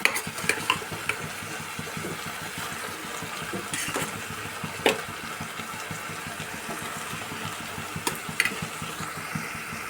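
Ash gourd pieces stir-fry in a pan with a soft, low sizzle, while a spatula scrapes and taps against the pan now and then, quiet and close, with no talking.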